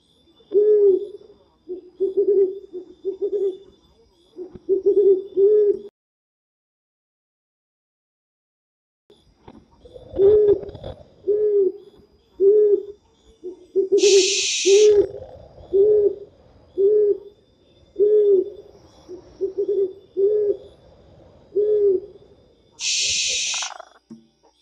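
Barn owl hoots from the bird simulator game Ultimate Bird Simulator, a steady series of evenly spaced low calls in two runs separated by a pause, loud and close, with two brief bright bursts of another sound in between.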